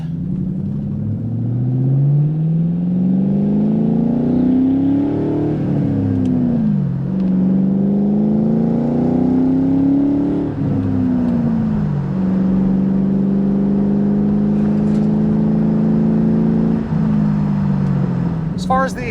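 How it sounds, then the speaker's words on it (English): A 2003 Ford Mustang Mach 1 with a 4.6 V8, five-speed and aftermarket Magnaflow mufflers drives along, its steady exhaust drone rising through gears with shift dips, loud and close, with a voice talking over it. "it does have aftermarket Magnaflow mufflers, so it sounds a little bit more aggressive than it would from the factory"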